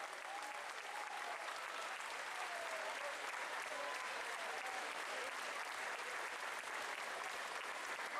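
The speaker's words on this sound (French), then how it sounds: "On peut les applaudir." A crowd at the Fête de Lunel, a Camargue town festival, applauds steadily and evenly throughout, a dense wash of clapping with a faint voice and a few whistles underneath.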